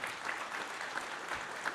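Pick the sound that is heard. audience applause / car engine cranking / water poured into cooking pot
audience applause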